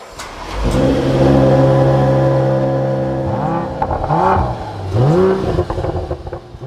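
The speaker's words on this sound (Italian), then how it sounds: "Basta tenere una paletta e premere il tasto di accensione per aprire gli scarichi." A Mercedes-AMG GLE 53 starts with its exhaust flaps open: a loud, close engine fires up and settles into a steady idle, then gives two sharp rising-and-falling revs.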